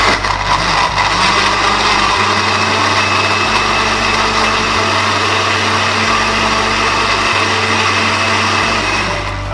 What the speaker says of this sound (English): Let's blend this and see what the consistency is.